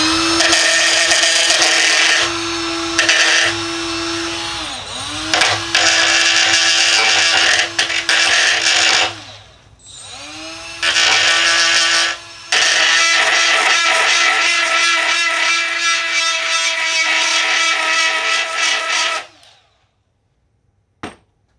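A Milwaukee 2486-20 straight die grinder whines at a steady high pitch in several long bursts with brief pauses, cutting threads off a bar with little bogging as it works the metal, loud and close.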